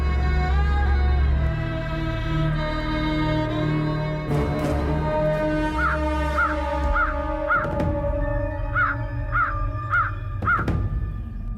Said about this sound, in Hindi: ये कौवा चिल्ला क्यों रहा है?